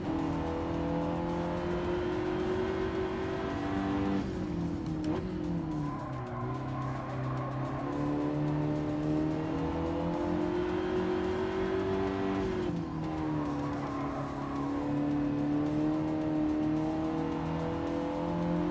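Loud, continuous engine drone from a bone-stock four-cylinder EcoBoost turbo car in Gran Turismo 7, rising and falling through gear changes, with brief tire scrubs as it corners on track.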